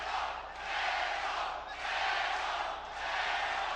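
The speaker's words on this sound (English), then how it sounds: "Crowd trying to lift Angulo back into the fight, chanting Pero, Pero, Pero." A boxing crowd at the Alfredo Angulo vs James Kirkland fight chants in loud, swelling waves, three broad surges of massed voices rising and dipping in rhythm across the arena.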